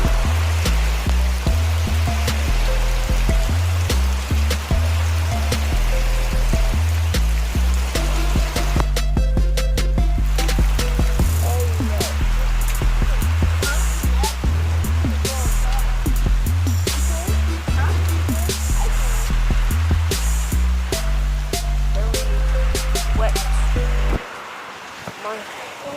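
Heavy rain drips and splashes around a covered porch during a hurricane-like storm, a loud, continuous wash of water with steady patter throughout, over a low background hum.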